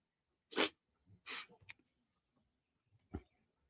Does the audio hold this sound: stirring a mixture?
no